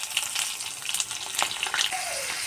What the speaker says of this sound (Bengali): জিরা ফোড়ন দিয়ে দেবো, তার মধ্যে কাঁচা লঙ্কা দিয়ে দেবো,